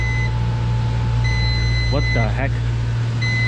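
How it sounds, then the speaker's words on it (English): In a mechanical room leaking water all over the floor, an alarm sends out steady repeated beeps over a constant low hum, while someone briefly speaks in the middle. "Got alarms going off."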